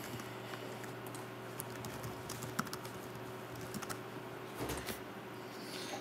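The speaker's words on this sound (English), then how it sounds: "you can start typing your post" Quiet, steady typing on a computer keyboard as a post is written, a continuous patter of key presses with a few slightly louder taps, close by and alone.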